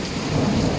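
Thunder rumbles low and steady through continuous rainfall in a tropical setting near a coconut tree, a dense wash of rain noise with the rolling boom swelling slightly toward the end.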